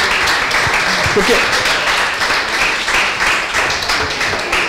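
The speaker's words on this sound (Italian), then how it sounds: "Ci vuole applausi di supplemento." Audience applause at an Italian presentation on data journalism and big data, steady clapping from the room with someone briefly speaking over it.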